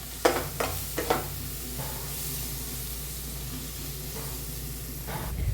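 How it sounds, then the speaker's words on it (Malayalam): A spatula knocks and scrapes several times as tomato is stirred into an egg thoran in a pan, then a soft steady sizzle carries on quietly. "തക്കാളി കൂടി ഇട്ടിട്ടൊന്ന് ഇളക്കി കൊടുക്കാം."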